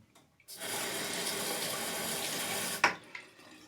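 Tap water runs steadily for about two seconds to rinse a Parker straight razor during a shave, then stops with a brief clack and a few faint drips and knocks.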